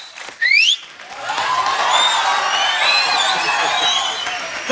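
A television comedy show studio audience applauds and cheers as guests are welcomed onto the stage, with whistles rising above a steady wash of clapping that holds for several seconds after a brief loud burst.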